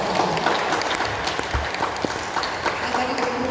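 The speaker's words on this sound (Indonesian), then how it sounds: "Kita tepuk tangan dulu paduan suara." A congregation applauds a church choir with steady, dense clapping throughout, fairly close and loud, with a few brief voices in the crowd.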